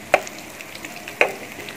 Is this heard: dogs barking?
no